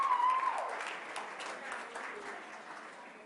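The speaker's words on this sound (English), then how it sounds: "Let's give her a round of applause." Applause from the audience at a business meeting, a fairly faint, steady patter of clapping that fades gradually over a few seconds, heard alone without talk.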